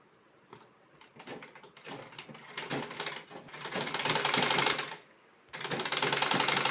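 A sewing machine stitches a lined blouse in close, rapid mechanical bursts that start and stop, building to longer steady runs of stitching with short pauses between them.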